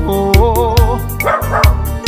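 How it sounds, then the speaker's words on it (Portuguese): A small dog's barks ring out as a sound effect within a forró-style serestão song, several quick yaps punctuating the music and sung melody. "E o cachorrinho latindo"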